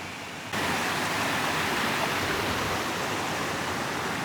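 A waterfall and river at Lata Kijang, in the forest of Taman Negeri Kenaboi, make a steady, dense rush of water that starts abruptly and then holds constant, with no voices.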